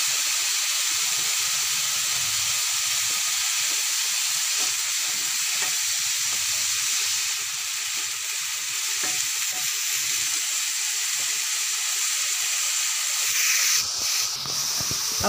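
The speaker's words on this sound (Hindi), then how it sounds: "इसको 1 मिनट के लिए फ्राई करके, 1 मिनट हमने फ्राई कर लिया है" Vegetables frying with soy sauce in a pan, a continuous close hissing sizzle throughout, with faint stirring scrapes and a brief burst of louder crackle near the end.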